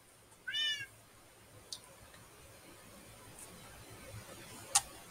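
A cat gives a single short, clear meow near the start of a quiet room, followed by faint clicks and small rustles later on.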